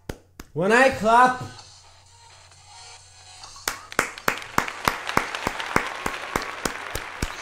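A single person claps sharply and repeatedly in a steady, slowing rhythm after a brief excited vocal exclamation, the claps close and distinct in a quiet room.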